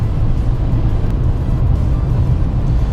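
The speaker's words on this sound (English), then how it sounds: "it stays a red line, it just kind of keeps going. That's how CVTs are." Low, steady drone of a 2017 Honda Accord Sport with a CVT, heard from inside the car, holding an even, loud pitch without gear changes, with no talk over it.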